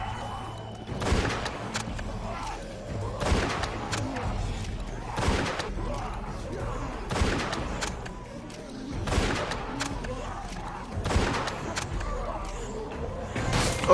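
Gunshots ring out in The Walking Dead video game, Chapter 4: sharp, loud cracks repeating about once a second over a steady low background hum.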